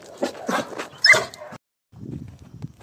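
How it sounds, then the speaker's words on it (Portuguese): A dog barks and whimpers in a few quick, close yips and whines, then a pause before softer low whimpering continues. "Aí é cachorro de luxo."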